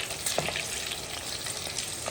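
Green chillies sizzle and crackle steadily in hot oil in a pan while being stirred, a dense close frying hiss with occasional sharper pops and no talking.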